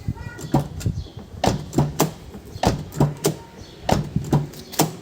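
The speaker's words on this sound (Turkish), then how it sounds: "Kapı açma sesine bakalım." A 2011 Kia Ceed SW 1.6 CRDI station wagon's front door is worked repeatedly, giving a series of close, sharp latch clicks and dull thunks in an uneven rhythm.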